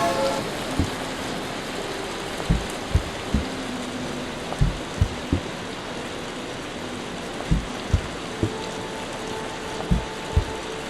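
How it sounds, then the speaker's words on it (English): Hail falling in the video game Vintage Story, a steady wash of rain-like hiss with scattered sharp ice clicks striking at irregular intervals, fairly quiet and close, with no talking. "Oh god, it's hailing."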